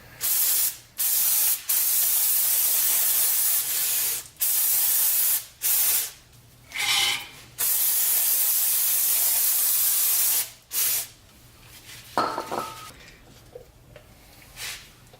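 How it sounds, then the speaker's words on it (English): Brake cleaner sprayed onto Toyota 4Runner wheel hub parts, about eight long aerosol hissing bursts of varying length with brief pauses between them, loud and close, followed by quieter handling noises. "Probably a good idea to hit it with some brake clean before we put everything back together."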